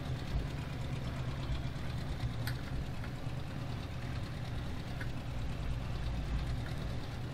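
A tractor engine in Farming Simulator 17 runs steadily throughout, a continuous low rumbling idle with an even, slightly knocking texture and no talk over it.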